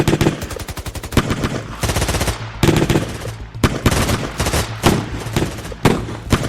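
Loud, close bursts of rapid automatic gunfire crackle almost continuously as six police officers fire on a car, dense volleys broken by a few brief pauses, with no voices.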